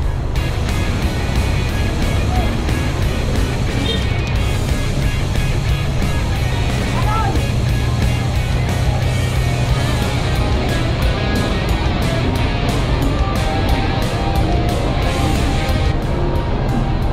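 Road traffic on a long downhill stretch near the Quezon City–Rizal boundary at night, heard from a bicycle: a steady, loud broadband rumble of engines and wind noise with passing vehicles, continuous throughout.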